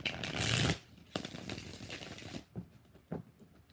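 Tarot cards shuffled by hand: one loud dense riffle, then lighter card slaps and sliding at irregular intervals, close and without voices.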